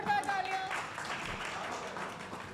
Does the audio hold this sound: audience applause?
yes